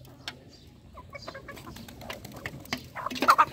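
Layer chickens cluck and call in scattered short bursts while feeding, with pigeons nearby; the calls grow busier and louder toward the end, against a soft farmyard background.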